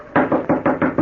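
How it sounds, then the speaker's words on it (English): Rapid knocking on a wooden stable door, five or six loud close raps in quick succession, each hollow and woody, with no talk. "I knocked on the stable door."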